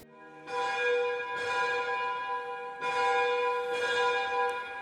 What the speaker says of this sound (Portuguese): O sino da capela não é tocado só para anunciar missas ou funerais, mas também para afastar tempestades.